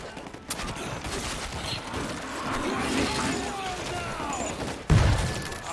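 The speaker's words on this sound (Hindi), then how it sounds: "अरे ग्रेनेड ही डाल दिया भाई" Gunfire crackles through a World War Z zombie fight in icy Kamchatka, then a heavy grenade blast thumps near the end, with players talking over the shooting.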